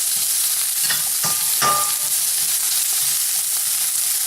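Vegetables and onions frying over high heat for a low-carb Tex-Mex quesadilla filling, a steady loud sizzle throughout with a few sharp scrapes of a utensil stirring the pan, close up and without talk.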